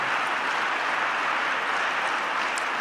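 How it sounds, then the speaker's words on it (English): Steady, even wash of crowd clapping filling a large hall during a speech in Saudi Arabia, continuous and moderately distant with no break. "What the f is that clapping from"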